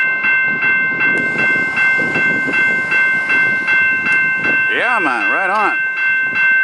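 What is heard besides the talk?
Peterbilt truck pulling freight train cars on rail line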